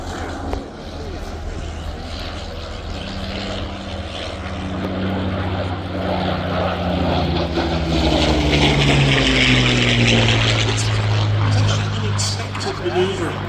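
A Sopwith Camel propeller plane flies at a summer air show, its engine droning steadily and swelling louder as it passes, with a whining tonal note that rises and shifts while a voice talks over it throughout.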